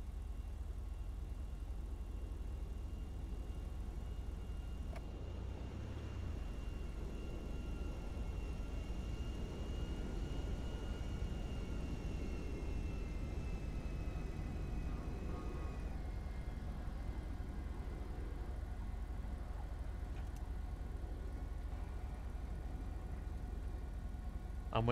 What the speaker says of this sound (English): There's a smoking plane.